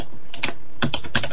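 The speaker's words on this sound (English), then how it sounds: "can somebody mute their keyboard?" Keys clatter on a computer keyboard in short quick bursts of close, crisp typing, several clusters of taps with brief gaps between.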